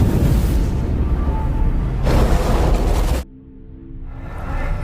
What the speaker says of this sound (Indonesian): begitu bola terlempar, bola itu pun meledak dengan sangat dahsyat